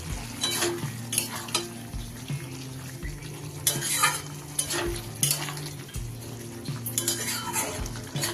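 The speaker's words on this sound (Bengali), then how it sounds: "এবার সবকিছু একটু ভালোভাবে মিশিয়ে নেব।" A spoon stirs spiced papaya and chickpea curry with garam masala and chopped coriander leaves in a pan, producing repeated scraping and clinking strokes over a soft sizzle, close and uneven in rhythm.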